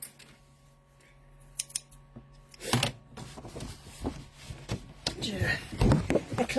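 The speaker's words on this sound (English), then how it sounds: "So I'm going to cut now." Scissors snip through a sheet of paper for a craft project, a few crisp cuts followed by rapid close snipping and rustling, with a voice speaking intermittently over them.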